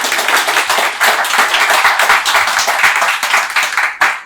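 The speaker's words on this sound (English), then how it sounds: "So, round of applause for our panel." Audience applause for a panel at a business talk session, loud and close hand clapping from a room of people, steady and continuous before tapering off near the end.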